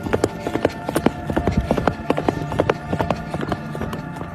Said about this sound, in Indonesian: Seketika suara tapak kaki kuda memecah keheningan malam pada malam itu.